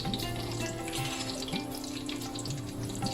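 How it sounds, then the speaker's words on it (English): Bay leaves and asafoetida frying in warm ghee, a steady close hiss and sizzle that runs without a break, with no voices over it. "We'll fry these for about 10 seconds."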